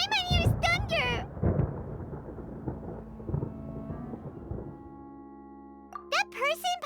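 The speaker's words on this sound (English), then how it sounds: "Paimon hears thunder!" Thunder in the video game Genshin Impact rumbles low and long for several seconds, fading out, with a character's high voice talking before and after.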